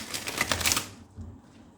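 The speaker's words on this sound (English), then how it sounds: "we shall be live shuffling your tarot cards" Tarot cards are shuffled by hand close by, making a quick papery riffling burst for about a second before it fades into near quiet.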